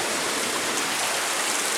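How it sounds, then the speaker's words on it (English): Heavy, record-level rain pours steadily outside, a dense continuous hiss with no pauses and no voices. "Now we've been blessed with so much rain, this has to be a record rainfall"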